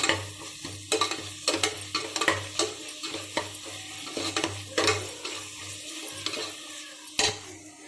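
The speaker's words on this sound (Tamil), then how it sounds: "திரும்ப நல்லா ஒரு முறை நல்லா நம்ம கலக்கி விட்டுக்கலாம்" Ginger garlic paste being stirred into mushroom biryani masala in a pan, with repeated scraping stirs and a steady frying sizzle underneath, close and moderately loud, no talking.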